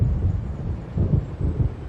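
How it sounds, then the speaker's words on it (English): Low rolling thunder from an approaching storm in the Alan Wake video game, a deep rumble swelling and fading in several waves with windy noise underneath, no voices. "It seems there's a storm coming."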